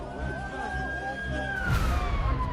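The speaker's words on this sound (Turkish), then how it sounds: "kulaklarda siren sesleri yankılandı" Wailing emergency sirens rise and fall over rumbling background noise amid widespread destruction in Hatay, Turkey, with a louder burst near the end.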